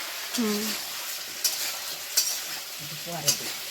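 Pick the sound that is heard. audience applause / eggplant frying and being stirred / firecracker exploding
eggplant frying and being stirred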